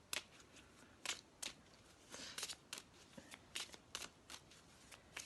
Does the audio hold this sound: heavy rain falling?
no